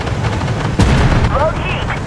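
A tank cannon fires in the Armored Warfare video game, a single heavy blast partway through over steady engine rumble, with a voice speaking just before and after.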